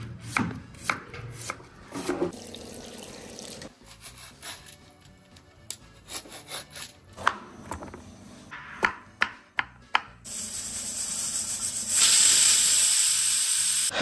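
Vegetables such as green chillies and tomatoes chopped with a sharp new kitchen knife on a board, a run of crisp close knocks in uneven rhythm, followed by a loud steady hiss from a pressure cooker at the end.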